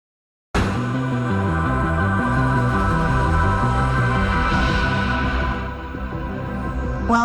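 Stranger Things TV theme: a dense, sustained synthesizer piece with a pulsing arpeggiated bass line under layered droning pads, steady and loud throughout with a slight dip near the end, no voices.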